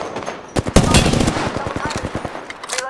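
Rapid bursts of automatic gunfire in a team shooter game, loud and close, starting after a brief lull and then continuing as a steady rattling stream of shots, with a voice faintly underneath.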